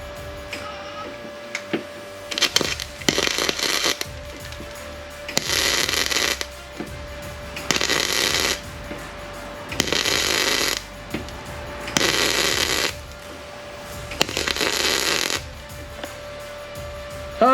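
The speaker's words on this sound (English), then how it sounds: "Looks like it took me a minute to get the welder dialed in, but it is a new welder" A new welder tacking a panel into a 1993 GMC K1500 pickup: repeated bursts of crackling, buzzing arc, each lasting one to two seconds, separated by short pauses, close and fairly loud.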